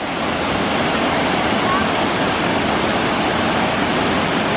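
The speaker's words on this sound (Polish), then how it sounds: "Podoba Ci się ten wodospad?" Constant roaring rush of falling water, loud and close, a dense unbroken hiss with no pauses.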